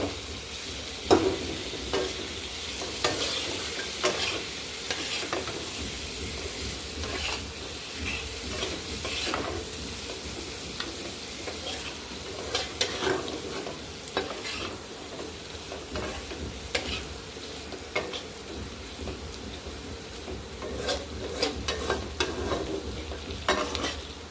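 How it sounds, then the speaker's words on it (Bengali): Chicken sautéing with chilli and turmeric powder in a pan, a continuous close sizzle under repeated spoon scrapes and stirring strokes, steady throughout with no talk. "কষে নিচ্ছি ভালো করে কষে নিয়েছি মাংসটা।"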